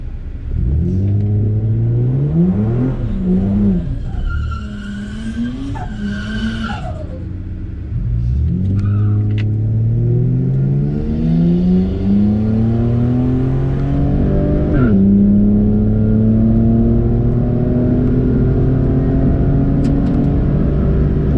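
A modified Ford with a naturally aspirated Barra six-cylinder launches down a drag strip, engine loud and close as it revs hard through rising gears with brief dips at each shift, a continuous roar throughout.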